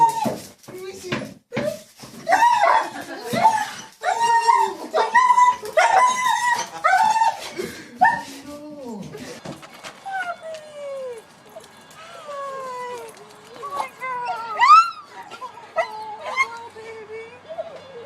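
Dogs greet their owners after a long separation, yipping, whining and giving short excited barks in rapid bursts, close and moderately loud, while people talk and coo over them throughout.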